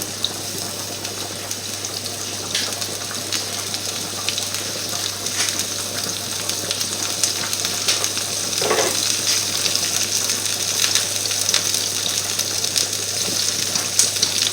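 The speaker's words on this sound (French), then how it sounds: "on peut commencer à mettre nos rondelles d'oignons" Onion slices frying in a pan for apple boudin, a steady close sizzling hiss that runs the whole time with small crackles and pops scattered through it.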